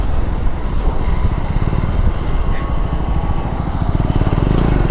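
A KTM 390 Adventure motorcycle engine runs loud and close, a steady thrumming growl with rapid low pulses that holds without pause throughout.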